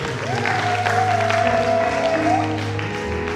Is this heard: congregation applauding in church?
yes